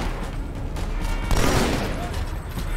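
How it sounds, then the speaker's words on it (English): A pulse weapon in the shooter Halo 2: Anniversary lets off a burst of energy shots, a loud crackling rush swelling midway through a noisy battle backdrop with no talk. "Looks like this is a pulse shooter. Burst fire, that's what I meant."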